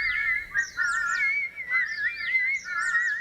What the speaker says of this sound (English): Beastmaster Fluttershy, who's working with a group of birds.